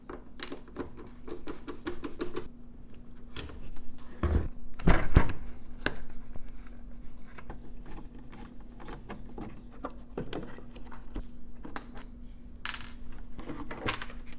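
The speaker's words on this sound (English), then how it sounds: "using a Phillips screwdriver, just unscrew it" A Phillips screwdriver unscrews the screws holding a Honda Accord headlight in place, giving light metallic clicks and small tool scrapes with a couple of sharper knocks partway through, close and alone against a steady low hum.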